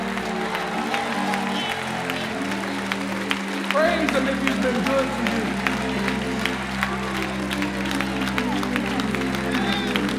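Church congregation claps and cheers in praise during a sermon, a steady wash of applause with scattered shouts under a preacher's continuing voice and organ-like sustained tones.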